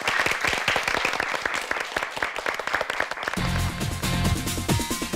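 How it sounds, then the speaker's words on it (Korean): An audience at a televised high school debate competition claps for two student debaters, crisp individual claps at first, then music swells in underneath the fading applause. "두 학생에게 박수 한번 부탁드립니다."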